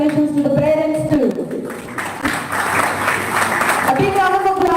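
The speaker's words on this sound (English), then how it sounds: "A big round of applause." Audience clapping at a school celebration for graduating plus-two students and their parents, a broad wash of applause in the middle stretch, mixed with voices and tonal sounds before and after.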